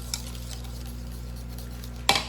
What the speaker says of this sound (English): Just whisk it away. All the clumps will come out eventually.